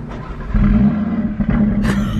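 An Audi RS3 engine fires up via keyless start, a deep low rumble swelling into a loud, close idle with a brief rise in revs near the end.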